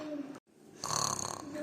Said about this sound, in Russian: храпит негромко папа